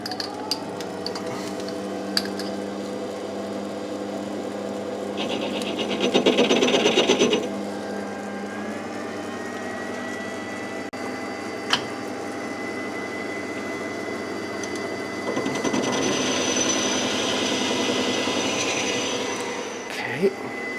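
A restored metal lathe runs with a steady, humming motor drone, joined by two longer bursts of harsher grinding as it works, with a few sharp clicks in between.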